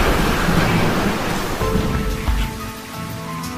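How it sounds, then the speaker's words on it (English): A raging storm brings steady heavy rain and rolling surf, a dense continuous wash of noise with no voices. "Outside, the storm raged,"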